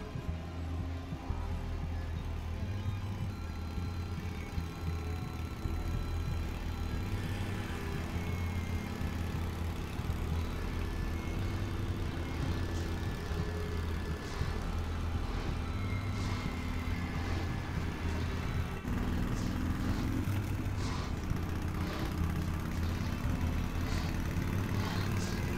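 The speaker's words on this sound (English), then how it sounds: "I can't really describe that as anything else than ominous lawnmower noises." Ominous droning engine noise like a lawnmower in the horror video game The Path, a steady low rumble with a constant hum running throughout, no speech.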